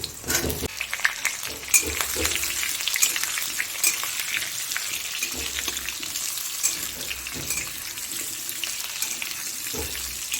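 Potato pieces fry in hot oil for a chicken curry, a steady close sizzle with scraping stirs and faint watery clatter running throughout, no voices.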